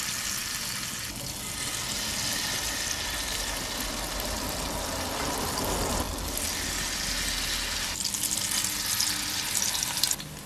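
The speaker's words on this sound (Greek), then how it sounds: "Χαμηλώνουμε λίγο τη φωτιά και τους τηγανίζουμε σε μέτρια." Greek tomato fritters sizzle steadily in hot oil in a pan over a lowered flame, a close, continuous frying hiss that swells in short bursts, with no talking.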